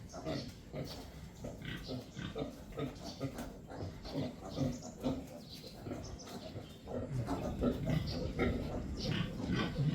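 A mother pig with her two young piglets, grunting and oinking almost nonstop at close range while a person talks over them.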